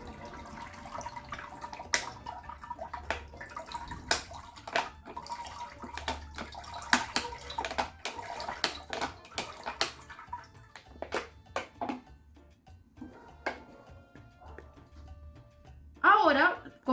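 Coloured salt-water mixtures are poured slowly into a container of room-temperature water, giving soft trickles and scattered drips, faint and close, with a louder splash near the end.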